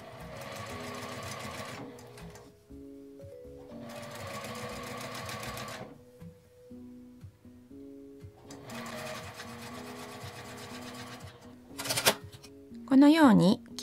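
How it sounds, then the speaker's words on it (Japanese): A sewing machine with a rolled-hem presser foot stitches a narrow triple-folded hem, running in three rapid bursts of steady whirring separated by quiet pauses, followed by brief handling noises near the end. "針を落として縫います。"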